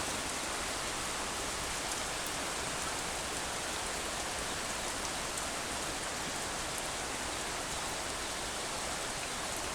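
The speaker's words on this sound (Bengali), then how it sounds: "এই যে বৃষ্টি এখন আরও বেশি হইতেছে জাপা বৃষ্টি হইতেছে" Heavy rain pours down in a village, a dense, unbroken hiss of drops hitting surfaces that stays level and loud throughout, with no voices.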